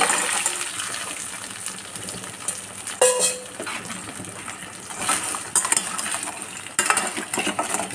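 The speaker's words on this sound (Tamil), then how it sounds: "நண்டு அதில் போட்டு நல்லா பரட்டி விட்டுருவோம்." Crab pieces being tossed and stirred in a cooking pan for crab curry, with metallic clinks and scrapes against the pan over a wet, bubbling sizzle, close by and without speech.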